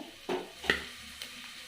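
Onions with a pinch of turmeric frying in a pan at home, a soft steady sizzle broken by a few sharp scraping stirs of a spatula, close and fairly quiet.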